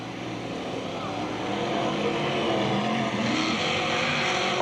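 At Penn Can Speedway, race car engines roar steadily as cars run the track, growing louder toward the end, with a commentator speaking over the noise.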